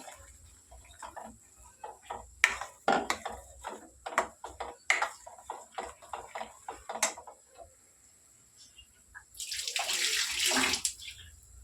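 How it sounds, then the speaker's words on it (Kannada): Water is poured into a mixer jar, a short splashing gush near the end that follows a string of light taps and clinks from kitchen handling. "ಮತ್ತು ಈ ಜಾರಿಗೆ ಒಂದು ಸ್ವಲ್ಪ ನೀರು ಹಾಕೋತೀನಿ"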